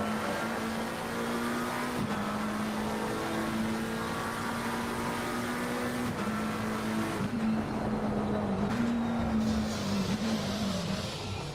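A race car on a track, including a McLaren, drones steadily for about twelve seconds, its engine note holding a constant pitch with small shifts as it works through corners and over the curbing.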